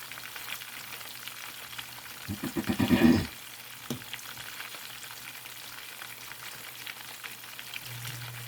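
Catfish nuggets coated in mustard drop into hot grease and give a brief swelling burst of bubbling sizzle that fades to a quieter, steady frying hiss.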